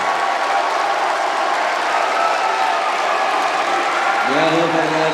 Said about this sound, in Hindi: पूरा सदन एक बार हाथ खड़े करके जोरदार सेलिब्रेट करें, जोरदार तालियां बजाएं,